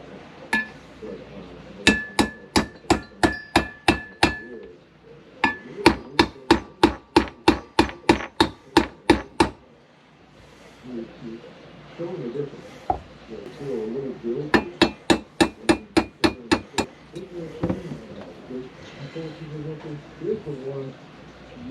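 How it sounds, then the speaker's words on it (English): A pin is pounded out of an M1A rifle during a stock swap, with several quick bursts of sharp metallic hammer strikes in steady rhythm, close and loud, separated by short pauses and brief talk. "the last thing we got to do is pound this pin out."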